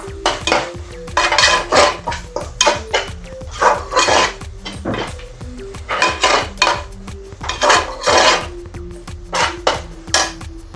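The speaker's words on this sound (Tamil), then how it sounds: "இதையும் நல்லா மிக்ஸ் பண்ணி விட்டுக்கலாம்." Soya bean biryani gets mixed in a pot, a spoon clanking and scraping against the metal in repeated rhythmic strokes, loud and close, with no talk.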